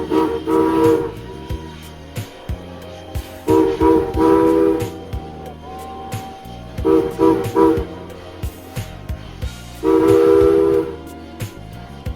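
A Strasburg Rail Road steam locomotive whistle sounds in four long, loud blasts with pauses between, over the low chugging rumble of a train nearby.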